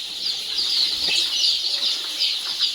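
Free-range country hens kept on a farm through summer give soft clucks amid brief rustling wing flaps, close and steady under a constant high hiss of background noise, with no voices.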